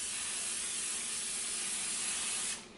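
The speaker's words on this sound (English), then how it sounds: "I'm going to spray the pan like I did with the last one. This is a bit of coconut oil." Coconut oil sprayed from a can onto a bread machine pan, one steady close hiss lasting a couple of seconds before cutting off.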